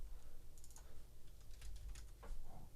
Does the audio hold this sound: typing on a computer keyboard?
yes